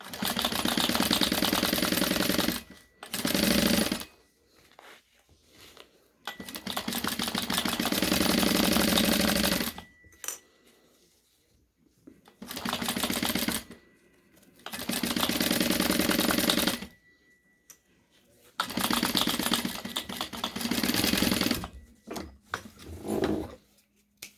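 A sewing machine back-stitches tape onto a disposable surgical wrap face mask, running in several loud bursts of a few seconds each with short quiet pauses between.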